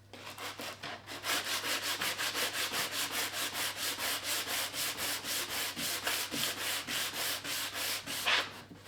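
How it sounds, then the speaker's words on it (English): Pallet wood hand sanded with sandpaper, heard as fast, even back-and-forth rasping strokes, close and steady for several seconds over a constant low hum. "with a bit of sandpaper, I'm just going to hand sand that until it is a snug fit"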